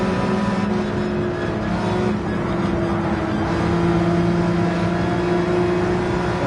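Race car engine held at full throttle in Gran Turismo 7, a steady, loud, droning roar with a constant pitch that stays even throughout, with no pauses.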